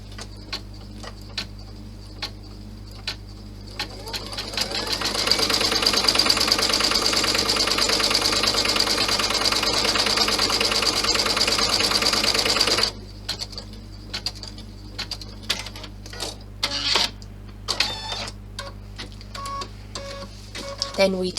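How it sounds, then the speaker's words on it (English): An embroidery machine stitches placement lines onto stabiliser for a bow purse, a dense mechanical run lasting several seconds between sparse clicks and taps, with talk around it. "We need to stitch the placement lines onto the stabiliser first of all."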